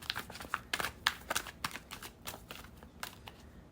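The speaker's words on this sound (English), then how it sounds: "Last shuffle." Faint, quick papery riffling and taps as tarot cards are shuffled close by, in short irregular bursts.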